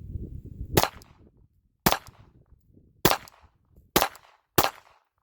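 Five sharp handgun shots from reloaded 9mm steel-cased ammunition, fired alone at uneven intervals of about one second, each a loud crack with a short ringing tail; a low rumble of wind or handling precedes the first shot.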